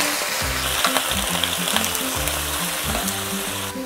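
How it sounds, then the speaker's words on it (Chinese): Napa cabbage stems stir-fry in a hot pan with a splash of water, giving a steady loud sizzle broken by rhythmic scraping strokes of the spatula. "白菜梗先进来，白菜梗比较硬，所以我们要先炒一下，稍微加一点水"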